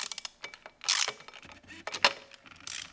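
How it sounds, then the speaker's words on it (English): A ratchet is worked on the mount bolts of a Yamaha FZ/MT-07 rear set, giving close metallic clicking bursts with louder clanks of tool and metal between them. "This is going to be step 1, is breaking your mount bolts loose."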